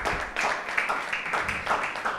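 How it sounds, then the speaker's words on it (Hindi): A church congregation at a sermon meeting applauding, a sustained patter of many hands clapping with uneven swells, fairly close. "इसलिए अपने लिए तालियां बजाएं"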